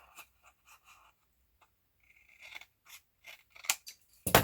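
Scissors snip paper to trim a tab on a shabby-style craft pocket, giving a few close, crisp cuts that grow louder toward the end, with no talking.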